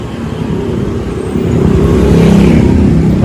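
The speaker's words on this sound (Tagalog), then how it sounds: "Ang laki ng truck." A large truck passes on a road, its deep engine rumble building from moderate to loud and close over a few seconds, with steady low roadway noise and no talking.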